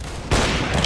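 A single sharp gunshot in Counter-Strike: Global Offensive, a loud close burst after a brief quiet lead-in, with a short ringing tail.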